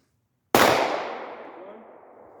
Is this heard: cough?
no